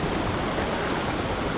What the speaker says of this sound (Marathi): इथून अजून एक छोटासा वॉटरफॉल